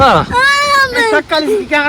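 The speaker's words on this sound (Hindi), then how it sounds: "वो देखिए वो बच्चा रो रहा है।" A child cries outdoors, a loud, close wailing whimper with rising and falling pitch in short bursts over about two seconds.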